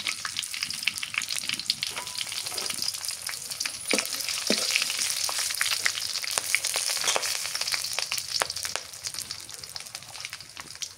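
Whole spices, bay leaf, large and small cardamom, cloves and cinnamon, sizzle in hot oil in a pan with a steady close crackle, a few sharper pops and occasional stirring, no voices.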